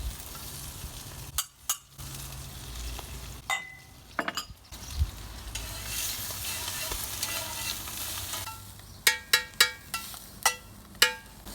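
Green onion bottoms sizzling in a pan, a soft steady fry broken by sharp clinks and scrapes as a utensil stirs and knocks against the pan, with a flurry of quick taps near the end.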